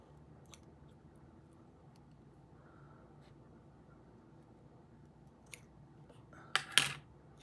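Scissors snip a couple of quick times near the end while trimming loose hanging strings on a craft project, a few faint clicks before them over a quiet room hum.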